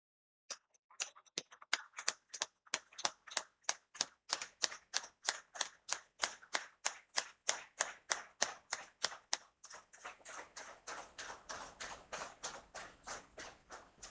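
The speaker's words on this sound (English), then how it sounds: "May I now request all my classmates and spouses to stand up for a big round of applause for our" Applause at a school alumni gathering of the 1983 batch at Sainik School, Kazhakootam, starting with a few separate claps that build into a steady, fairly close round of clapping, with no voices.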